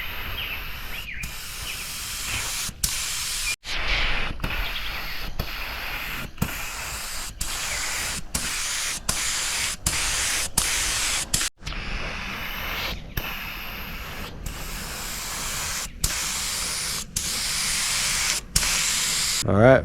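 Spray gun laying down metallic paint coats over Rustoleum, loud close hissing bursts repeated steadily in short passes, each ending with a brief break of near silence.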